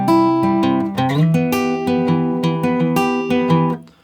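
Guitar in standard tuning plays the verse part of a song, with sustained ringing notes and regular picked attacks, close and loud, fading at the end with no talking.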